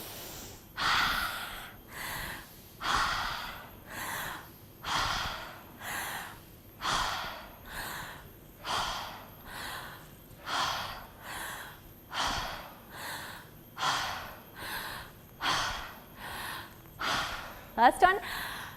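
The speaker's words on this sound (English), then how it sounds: "Hold the breath, inhale. Deep breath in the heart." A person at a flow-state breathwork workshop draws deep breaths in and out in a slow, regular rhythm, about a dozen close, audible cycles of inhaling and exhaling, ending with a sharp gasp.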